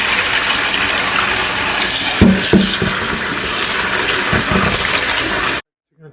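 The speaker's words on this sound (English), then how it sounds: "now we're going to wash the liver of any vinegar 4 to 5 times with water" Mutton liver being rinsed in water, with a steady wash of running water and splashing, a few sharper splashes and clunks midway, close and fairly loud.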